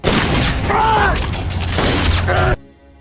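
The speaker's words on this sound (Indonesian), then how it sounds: "salah satu penjahat melepaskan tembakan mengenai Marcus" Gunshots ring out in an action film scene about a robbery, with loud bursts of fire amid voices and other movie sound that cut off abruptly near the end.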